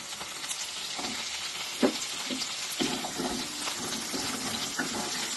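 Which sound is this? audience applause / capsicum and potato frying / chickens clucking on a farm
capsicum and potato frying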